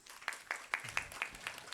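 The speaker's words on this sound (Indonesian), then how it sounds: "Tepuk tangan dulu dong" Guests at a seven-month pregnancy thanksgiving gathering clap in a quiet, regular rhythm of about seven distinct claps, soft and close, with faint murmuring underneath.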